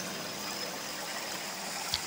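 Steady broadband rushing of a village river flowing, a continuous close wash of water with a faint trickle and one brief splash near the end, no voices.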